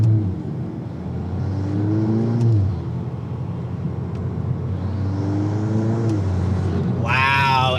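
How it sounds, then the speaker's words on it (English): Turbo spool and intake whoosh from a 2022 Volkswagen Golf R MK8 with an open air intake, a steady rising whir under engine drone that builds twice, each swell ending in a release, loud and close. "if you really just get on it, all you hear is just the turbo just shh"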